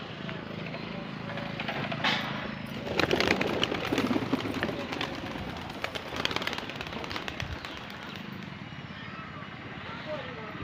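Pigeons coo and stir after being given water, their soft calls blending into steady outdoor background noise, with a brief louder stretch around the middle.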